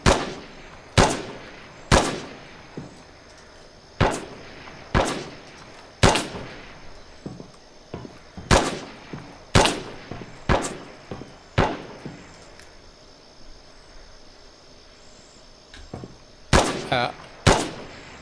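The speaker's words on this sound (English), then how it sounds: "I don't know where that guy was shooting from." Gunshots from a distant shooter crack out in an irregular series of about a dozen sharp reports, spaced one to two seconds apart with a gap in the middle, each ringing briefly over an open outdoor background.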